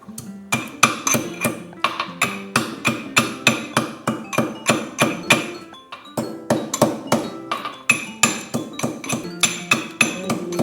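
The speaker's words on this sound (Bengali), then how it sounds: "ততক্ষণ আমি গরম মশলাটা একটু থেতো করে নিচ্ছি।" Whole garam masala of small cardamom, cinnamon and cloves pounded by hand to a coarse crush, a steady run of sharp, close knocks about two or three per second, with a brief pause partway.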